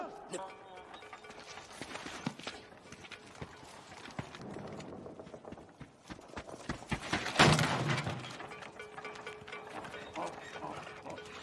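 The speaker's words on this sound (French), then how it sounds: "Gentil petit âne." A donkey's hooves clip-clop along at a steady walking pace amid mechanical rattling and background noise, with voices talking over parts of it.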